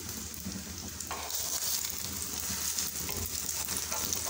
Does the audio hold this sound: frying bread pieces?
yes